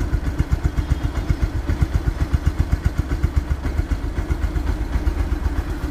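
A second-hand 2022 Yamaha Saluto motorcycle engine runs with a steady, rapid low thumping pulse, loud and close, continuing evenly with nothing else heard.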